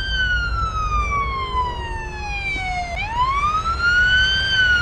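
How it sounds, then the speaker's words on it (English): Police car sirens in the Police Simulator patrol game wail loud and close, one long tone sweeping steadily downward and then rising again over a low engine rumble. "Listen to how loud these sirens are, lad."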